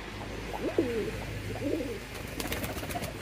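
Giribaz pigeons give two soft, rolling coos close by, one after the other with a short pause, over a quiet background with a few light rustles at the end.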